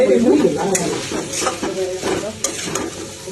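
Leafy greens frying in a pan with a low sizzle, punctuated by several sharp scrapes and clinks of a spatula stirring, close up.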